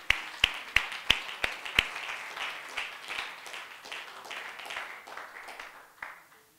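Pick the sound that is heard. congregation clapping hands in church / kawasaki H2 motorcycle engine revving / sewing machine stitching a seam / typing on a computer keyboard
congregation clapping hands in church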